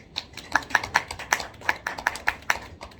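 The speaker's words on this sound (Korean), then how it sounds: "우리 박수 한번 칠까요?" About ten sharp hand claps in a loose, steady rhythm from a church youth congregation during a Sunday worship service, fairly close and moderately loud, with no talking.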